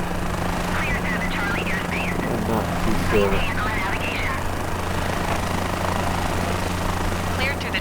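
Helicopter on a private heli-tour over Brazil, its steady rotor and engine drone filling the cabin throughout, with voices talking over it.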